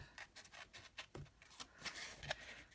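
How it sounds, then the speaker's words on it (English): Small craft snips fussy cut around a stamped sunflower image on card, giving a string of quick, quiet close-up snipping and rustling clicks with no talk. "I need my snips and just very, very quickly fussy cut this out"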